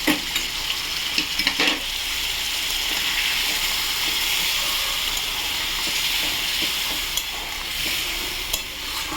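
A pan of frying katla fish curry in mustard sauce sizzles steadily and loudly after hot water is poured in, a continuous hiss with a few scraping stirs near the start and end.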